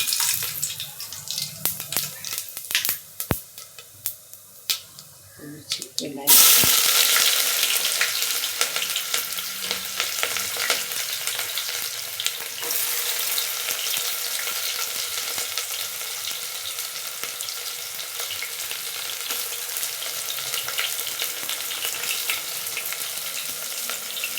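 Onions and spices sautéing in a pan for mushroom biryani, starting with quiet stirring and then rising into a steady, loud broadband sizzle that runs the rest of the way, with occasional scraping stirs on top.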